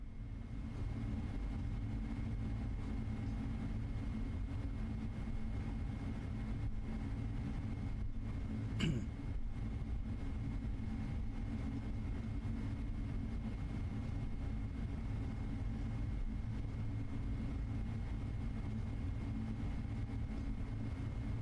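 Boeing 777 freighter engines in a flight simulator make a steady, continuous low drone with a faint high whine, unbroken for the whole stretch apart from one brief click partway through.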